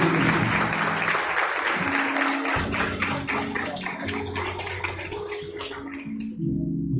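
A church congregation at an in-person service applauds together, a dense, sustained wash of clapping filling the room for several seconds before tapering off, with a faint voice underneath.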